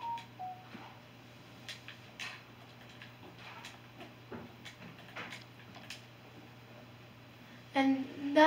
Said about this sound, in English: And that noise was my tablet, don't mind it either.